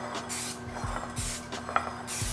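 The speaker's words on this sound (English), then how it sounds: "Spray with a little spray." Cooking spray hisses into a parchment-lined baking pan for s'mores bars, several short close bursts separated by brief pauses.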